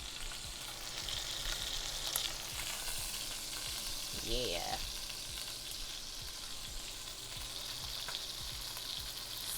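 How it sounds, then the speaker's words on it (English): Pork shoulder for tomato ragu sizzles and crackles steadily in a hot pot, with a brief scrape of stirring and a short spoken word partway through. "Sizzling."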